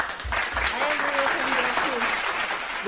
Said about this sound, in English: I had to give you applause for that.